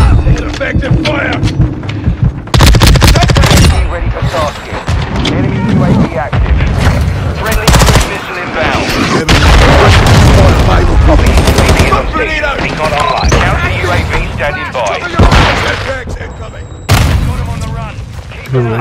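Loud, constant video game combat from a first-person shooter, with rapid machine-gun bursts, booming explosions and heavy gunshots overlapping throughout, while shouted in-game voice callouts come through the din.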